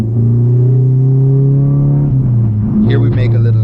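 A 502HP Honda Civic engine given light throttle during a test drive: a loud, steady low drone that wavers slightly as the gas is applied, with voices talking over it near the end.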